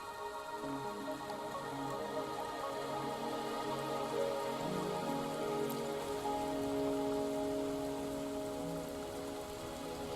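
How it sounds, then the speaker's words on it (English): Rain falling in a video game, a soft steady patter of drops on surfaces under quiet sustained musical tones, constant throughout. "Are you trapped here by the rain?"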